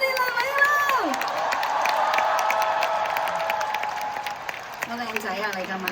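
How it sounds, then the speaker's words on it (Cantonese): A large Hong Kong concert crowd applauds and cheers steadily after the singer's remark, a dense continuous wash of clapping with a voice speaking over its start and end. "好多嘅掌聲"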